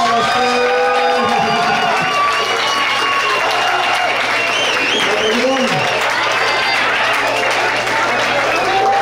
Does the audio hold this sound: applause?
yes